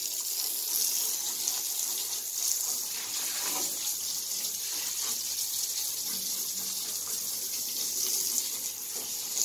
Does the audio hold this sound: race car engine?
no